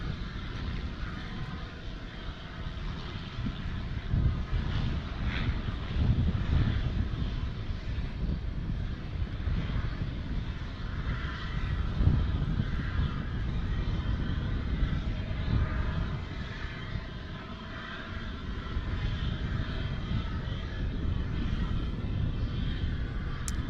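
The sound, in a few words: wind blowing at an airport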